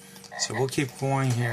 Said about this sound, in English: you can hear the frog croak